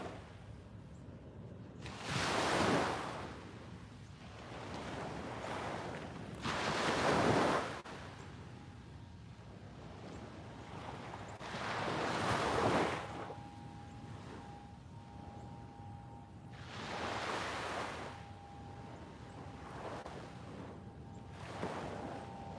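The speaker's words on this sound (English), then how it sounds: "Soak in the sounds of the waves for one more minute" Ocean waves breaking on a shore in repeated surges about every four to five seconds, each swell rising and washing back out, with steady wind noise between crests and no voices.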